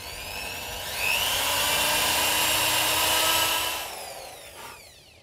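A power drill bores into wood for an insect hotel, a high whining motor that rises as the bit bites in, holds steady for a few seconds, then winds down, loud and close.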